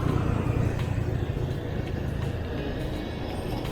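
Busy Saigon city street with steady traffic of cars and motorbikes, a dense continuous engine rumble and hiss at moderate distance, with no clear individual passes and no talk.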